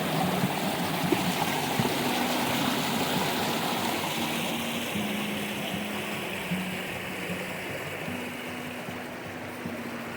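A river flows steadily beside a small footbridge on a path near Hartington and Wolfscott Dale, giving a continuous rushing wash with a faint low hum underneath.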